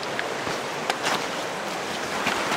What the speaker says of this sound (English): And a river runs through.